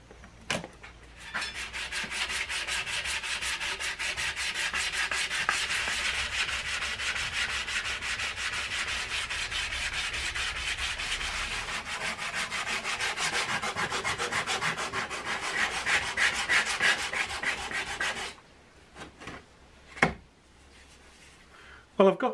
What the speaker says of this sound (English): after what is quite a massive and tedious amount of sanding